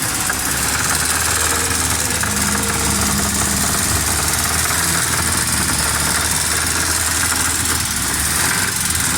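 A Suzuki Alto 1000cc car engine with a starting, pick-up and fuel problem runs steadily nearby, giving a loud, continuous idle with a rough knocking vibration throughout and no talking.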